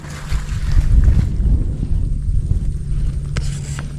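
Strong wind roars across an open-water setting, with heavy gusty rumble and water noise, loud and continuous with no talking.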